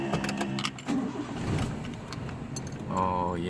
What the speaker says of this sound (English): I'm gonna start up the car